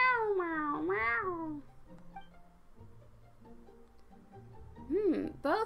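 A cat character meows in the Genshin Impact video game, two drawn-out, pitch-bending meows near the start and another pair at the end, with quiet game ambience between.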